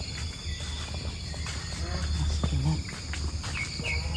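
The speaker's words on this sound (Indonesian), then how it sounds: "Masih ada bunyi jangkrik ya, karena ini masih jam 6." Crickets chirp steadily in the early morning after rain, a faint high trill running through the background while birds call and a person talks nearby.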